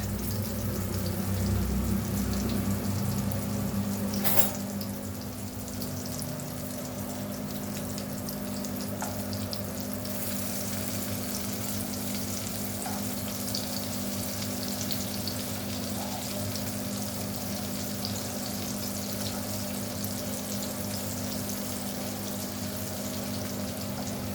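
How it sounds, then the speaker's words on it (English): Breadfruit slices fry steadily in a pan on low flame, a soft, continuous sizzle with a low hum beneath, unchanging throughout. "on low flame I am frying this"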